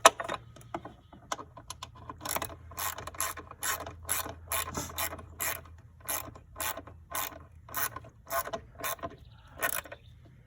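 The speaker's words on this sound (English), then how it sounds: "you put your bolt in and tighten that up, and that keeps it from moving" A ratchet tightens the battery hold-down bolt on a 2015 Ford Fusion 2.5, with quick bursts of close, crisp clicking repeated in a steady back-and-forth rhythm, alone and fairly loud.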